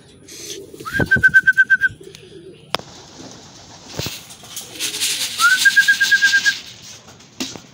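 Racing pigeons in the morning, with two bright whistled calls each about a second long, standing out over a steady wash of softer birdsong and low murmuring cooing in the background.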